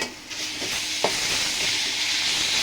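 Ginger and garlic paste frying in a pan, a loud steady hiss and sizzle close by, broken by a few short scraping stirs, with no one talking.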